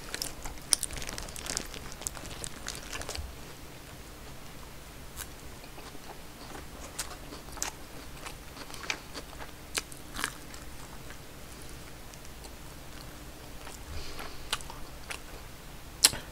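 Eating a Burger King red snow crab Whopper and a crunchy chicken burger: close, steady biting and chewing with crunchy crackles, near the mic and without talk.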